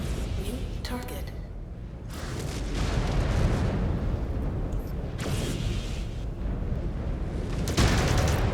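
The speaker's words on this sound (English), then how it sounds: "Incoming missile." Incoming missile explosions from the video game MechWarrior 5: Clans, deep rumbling booms and blasts spread across the stretch, with a voice speaking briefly over the din.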